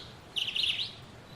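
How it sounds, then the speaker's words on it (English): Birds chirping outdoors, a single short burst of high, bright tweets that stands out clearly over a low, faint background hum, with no talking. "Hello, birds."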